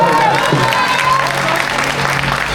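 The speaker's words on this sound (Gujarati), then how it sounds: "આજુબાજુવાળા માટે જોરદાર તાળી વગાડો યાર" Applause from a crowd at an SK Chowk Ganpati Utsav garba celebration in Rajkot, a steady dense wash of clapping lasting the whole stretch, close and fairly loud, with some voices mixed in.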